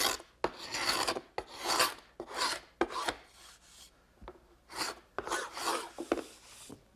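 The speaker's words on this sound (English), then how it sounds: "Now I want to just scrape off the little beads of glue that squeeze through." A paint scraper scraping dried beads of glue off wood, heard as a series of short, rasping strokes in an irregular rhythm, close and fairly quiet, with brief pauses between passes.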